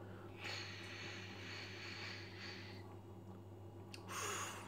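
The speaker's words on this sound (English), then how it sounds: "Let's have a bit of a sniff." Someone takes a few soft nasal sniffs close to a freshly topped-up glass of Guinness, quiet breathy intakes heard over a faint steady background hum.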